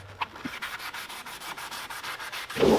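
Sandpaper rubs steadily back and forth to strip paint and primer from the body of a 1983 Toyota Trekker, forming a close, rhythmic scratching series that rises into a louder burst at the end.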